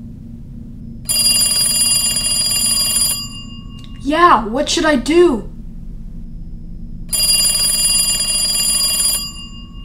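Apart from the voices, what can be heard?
old telephone ringing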